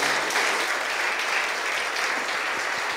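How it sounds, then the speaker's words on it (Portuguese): A church congregation applauding for Jesus, a thick, continuous roar of many hands clapping together, steady and loud throughout with no voices rising above it. "Mais palmas para Jesus, irmão."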